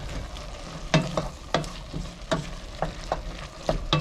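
Spiced ground turkey and vegetables stirred in a sizzling pan, a utensil scraping in regular strokes about every half second over a steady close fry, with no talk.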